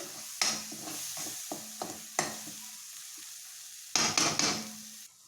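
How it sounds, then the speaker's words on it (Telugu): Egg masala frying on a low flame in a pan, a soft background sizzle broken by a series of sharp scraping and clinking spatula strokes in bursts. "సిమ్లోనే పెట్టుకొని ఫ్రై చేసుకోవాలి."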